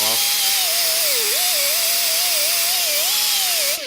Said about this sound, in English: Use a cone brush on a die grinder.